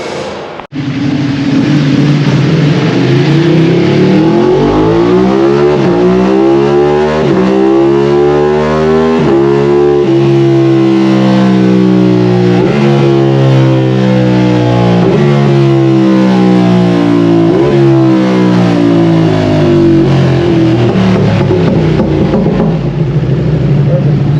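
A motorcycle fitted with a Bayliss Akra exhaust runs on a dyno, revving hard up through the gears with a loud, continuous engine roar that climbs in pitch, drops at each shift and climbs again, very close and dominant.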